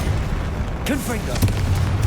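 A Confringo blasting spell cast in the video game Hogwarts Legacy: a short, booming blast with whooshing, swirling magical effects over continuous game rumble, with a voice calling out.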